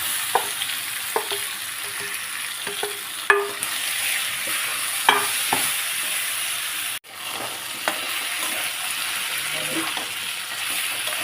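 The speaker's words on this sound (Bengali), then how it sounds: "এবারে আমি মাখা সয়াবিনটা দিয়ে দিলাম" Marinated soybean chunks hiss and sizzle in a hot pan with chilli, crushed green chilli and mace, the frying noise steady and close, broken by occasional clinks of a spoon stirring against the pan.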